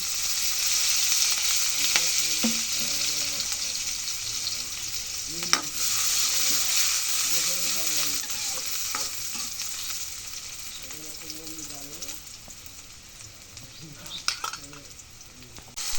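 Oil sizzles steadily in a pan while frying native shing fish with onion, a broad continuous hiss with faint talk passing in and out underneath.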